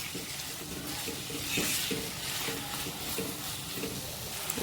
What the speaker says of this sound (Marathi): सर्व मिक्स करून घ्यायचं आहे